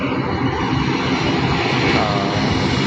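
A Canadian airplane at Cebu airport gives a loud, steady engine roar that holds evenly throughout, with no voices over it.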